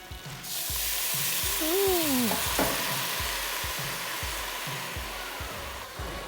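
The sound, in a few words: scraping and stirring a sizzling pan while cooking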